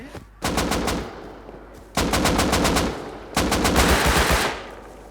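Three bursts of rapid automatic fire from an AK rifle in the video game Rust, each lasting about a second and a half, loud and close with short gaps between them.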